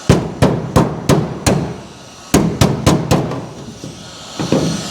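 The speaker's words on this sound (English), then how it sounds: "I need a body hammer." A body hammer strikes the sheet-metal body panel of a cut-in-half 1955 Chevy, with sharp metallic blows in two rapid bursts of about five each and a couple of softer taps at the end.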